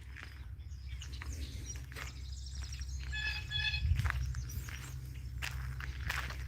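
Birds by a pond repeat bursts of rapid, buzzy chirping tones against steady outdoor rumble, with footsteps crunching nearby throughout.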